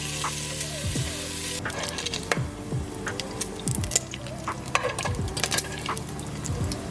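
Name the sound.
bacon frying in a pan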